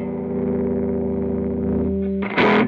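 A violin played through an OCD overdrive pedal holds a steady, distorted sustained note, then shifts abruptly to a brighter, harsher burst at the end. The tone is loud and close, with no talking.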